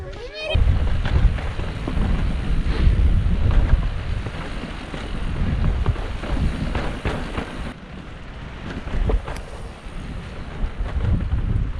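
Strong wind buffets the microphone in heavy, rumbling gusts throughout, with faint voices now and then beneath the roar, outdoors at a mountain bike race in Moab, Utah.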